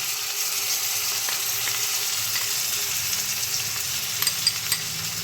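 Cabbage curry with new potatoes sizzles and fries steadily in a pan as spice paste goes in, a loud continuous crackle with a few soft stirring clicks near the end.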